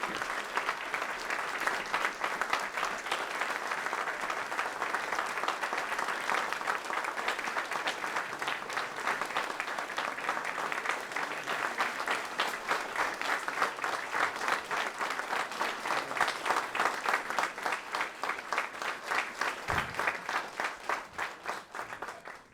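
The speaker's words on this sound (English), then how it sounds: "please join me in a round of applause and recognition for a wonderful man" A dinner audience claps in a long, steady round of applause that lasts over twenty seconds at an even volume, with no voice over it.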